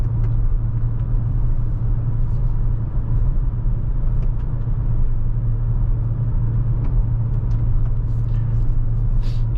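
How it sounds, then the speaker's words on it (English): A car drives slowly along a rough road, making a loud, constant low engine and road rumble that stays steady from start to finish, with no talk. "I don't like this road, you know. That's why I'm driving so slow"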